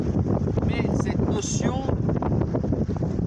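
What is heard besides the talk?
wind blowing on the microphone outdoors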